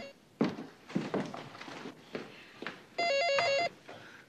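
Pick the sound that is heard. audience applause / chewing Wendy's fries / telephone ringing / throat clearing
telephone ringing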